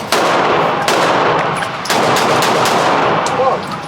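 Rapid automatic gunfire at a shooting range, loud and close, with bursts of sharp shots repeating across the whole stretch and a brief voice underneath.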